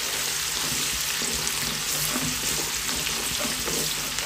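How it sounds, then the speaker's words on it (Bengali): Onions frying in a pan, a dense continuous sizzle with occasional small pops and stirring scrapes, close and steady throughout, no talk. "এটা আমার পেঁয়াজগুলো হালকা লাল করব"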